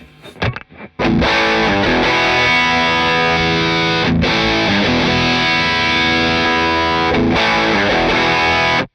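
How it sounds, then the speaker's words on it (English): An electric guitar rings out heavily overdriven through a Keeley D&M Drive pedal, drive into boost, with sustained distorted chords and brief pauses between them, loud and close, no talking. "flick over to the drive going into the boost and back round again so you can hear"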